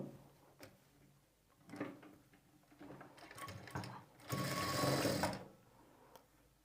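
A sewing machine stitches the shoulder seam of a blouse in several bursts of rapid mechanical whirring, short runs at first and then a longer, louder run, with quiet pauses between and no talking.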